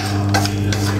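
A spoon works through a bowl of pig offal, stirring and tossing the pieces in a close, wet scraping motion with a couple of distinct strokes over a steady background hum.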